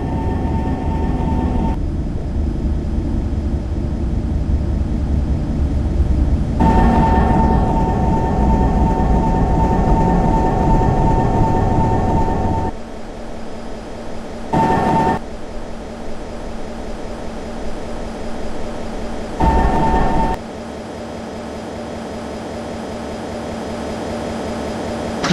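A C361 commuter train in a rail simulator slows to a halt, a loud continuous motor whine and rumble that drops in pitch and fades, followed by quieter cab hum broken by short bursts of hiss.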